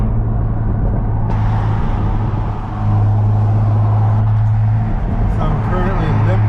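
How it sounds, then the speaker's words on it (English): A BMW with its mufflers cut off is limped along with the windows down, giving a loud, steady low engine drone and road rumble inside the car, and a person talks over it. "So I'm currently limping the BMW to the shop."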